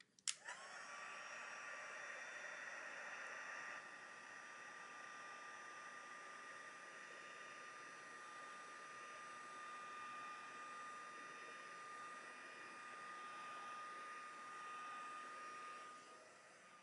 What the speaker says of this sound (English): So I'm going to heat emboss it for just a minute.